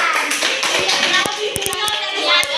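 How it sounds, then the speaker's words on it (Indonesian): A group claps for a student in a classroom, a scattered burst of hand claps with a few sharp individual claps standing out, over light background chatter. "tepuk tangan dulu buat Ridwan."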